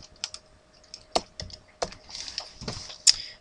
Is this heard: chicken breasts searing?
no